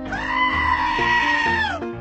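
A cartoon goat lets out one long, loud wavering bleat with a strained, nasal tone, close and unaccompanied.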